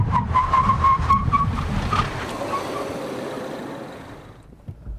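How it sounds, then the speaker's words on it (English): A 2013 Ford Focus ST braking hard from 60 mph to a stop, with a brief high tire squeal over a rumbling road and engine roar that fades as the hatchback slows, no talk. "now for a 60 to 0 brake test"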